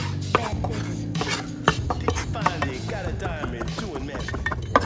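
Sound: knife chopping chicken on a board

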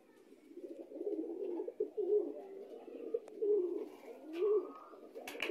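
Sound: pigeons cooing in a loft

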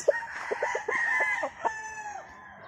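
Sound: rooster (stag) crowing

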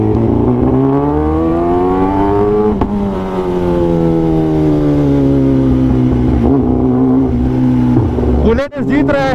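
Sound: Royal Enfield Bullet motorcycle racing, engine revving

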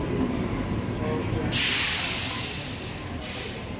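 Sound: train at railway station

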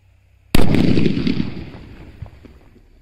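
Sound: big firecracker bomb exploding

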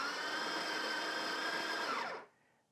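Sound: Barista Touch Impress espresso machine grinding coffee beans

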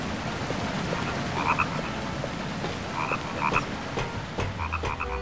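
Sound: frogs croaking in The Nightmare Before Christmas: Oogie's Revenge video game

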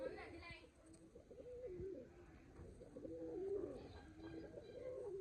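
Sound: pigeons cooing

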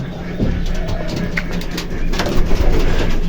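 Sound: pigeons cooing in a farm

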